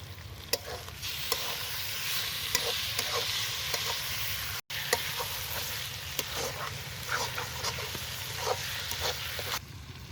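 Goat fat sizzles and fries in oily spiced masala in a pan, a steady close hiss broken by repeated scraping stirs, with no talking.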